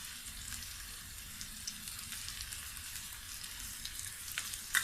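Onion, garlic, ginger and green chilli fry in hot oil for a mixed vegetable dish, giving a steady, soft, even sizzle throughout with occasional small pops near the end and no talking.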